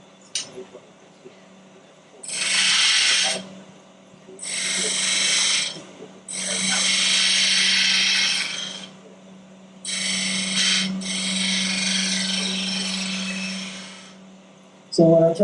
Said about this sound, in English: This is a spindle gouge. 9/16 spindle gouge.